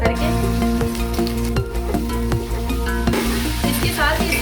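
Ginger garlic paste added to a pan with black peppercorns, cloves and cumin for beef yakhni pulao, frying with a loud continuous sizzle under a steady stirring hum, close up.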